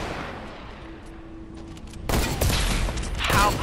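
Gunfire in the video game Fortnite starts abruptly midway as a loud burst of sharp rapid shots after a quieter lead-in with a faint tone, continuing with crackling impacts.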